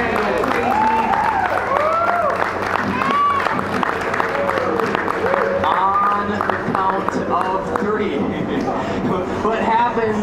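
A street-show crowd at a unicycle performance applauds and cheers, a loud, sustained wash of clapping beneath a performer's voice that talks throughout.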